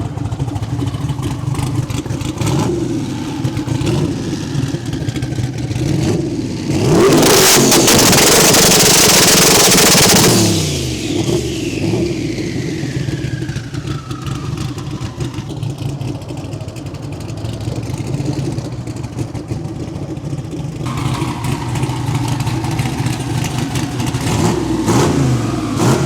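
A car engine on launch control revs hard and holds near 6,000 RPM while building boost, with a loud, sustained roaring burst in the middle and a steady rumbling drone before and after.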